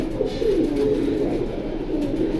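A pigeon coos close by in a soft, throaty, rolling call that carries steadily through the short moment, with no voices.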